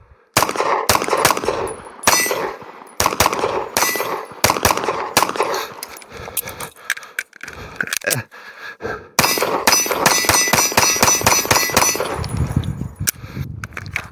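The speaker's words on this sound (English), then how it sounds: "let's just shoot a mag or two out of this gun real quick" A Canik micro compact pistol, a California-legal model, fires a magazine in close, sharp gunshots with a metallic clang, coming in an uneven series with brief pauses and a quick string near the end.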